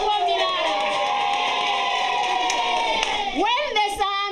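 Schoolchildren in a Malawi classroom cheer and shout together in a loud, sustained burst of crowd noise, with clapping mixed into the roar.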